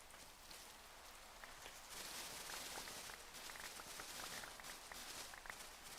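Rain falling in a video game, a steady soft patter of drops with scattered taps and light footstep-like crunches, fairly quiet and continuous with no talking.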